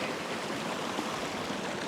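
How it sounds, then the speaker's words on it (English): A small beck in the countryside flows with a continuous soft, even rushing of water, faint and unbroken for a couple of seconds. "So there's what I thought was even a waterfall. It's not, it's just a beck."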